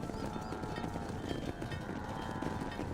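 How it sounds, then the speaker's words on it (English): A herd of horses trotting in the video game Red Dead Redemption makes dense overlapping hoof clip-clops, a busy rhythmic patter close by and fairly loud, with a thin whinny-like tone above. "Let's move here, my four-legged friends. Come on, let's go, let's go."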